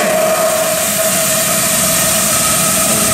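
A live steam logging locomotive with its blower running gives off a loud, continuous roaring hiss, steady and close throughout.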